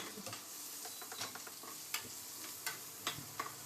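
Cumin seeds sizzle quietly in hot oil for jeera rice, a soft steady frying hiss scattered with small crackles and pops and a few stirring clicks, with no voices.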